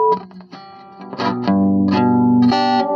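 An acoustic electric guitar plays through a small amplifier with a heavy echo effect, plucked notes and chords ringing out and repeating in trailing echoes, loud and close with no voices.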